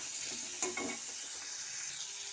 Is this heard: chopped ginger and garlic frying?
yes